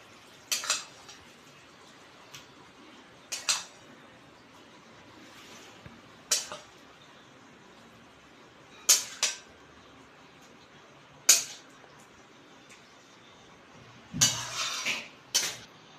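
A metal spoon scrapes and clinks against a pan as aloo posto, a Bengali potato and poppy-seed dish, is transferred into a bowl, in a series of sharp, separated clatters with quiet pauses between them.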